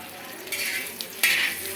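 Frying for a dried fish and egg curry gives a close sizzle, with the scrape and clink of a utensil against the pan and two sharper stirring bursts, and no speech.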